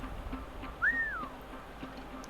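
A character whistles once in Assassin's Creed Rogue, a short rising-then-falling tone lasting about half a second, fairly faint over a quiet game background.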